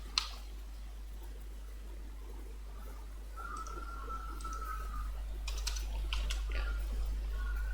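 Quiet typing on a computer keyboard, soft irregular key clicks with a few sharper taps over a steady low hum, with no talking.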